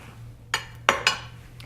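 Asparagus goes into a pan on a gas stove, making three sharp metallic clinks and clatters over about a second, close and moderately loud, above a steady low hum.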